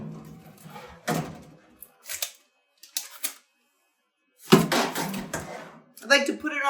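A metal focaccia pan is handled and slid into an oven, giving short clattering knocks and scrapes separated by silent gaps, with a burst of louder metallic rattling near the end and a voice talking between the sounds.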